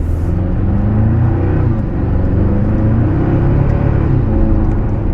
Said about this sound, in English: It's shifting quicker. It's running through the gears faster